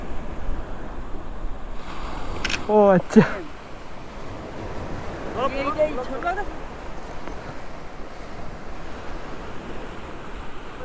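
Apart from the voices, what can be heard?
sea waves at high tide, Dublagadi beach, Odisha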